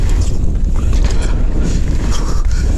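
Wind rushing steadily across the microphone while mountain biking uphill on a 2022 YT Capra, a continuous loud buffeting roar with no break and no talk.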